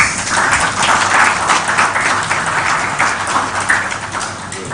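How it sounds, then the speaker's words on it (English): Audience at a human rights summit gives a round of applause, a dense, even patter of many hands clapping for several seconds, fading slightly toward the end. "let's give them a round of applause."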